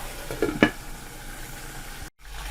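Chicken pieces sizzle and fry in a pan over a medium flame, giving a steady crackling hiss. A couple of scraping stirs or turns sound near the start, and there is a brief dropout near the end.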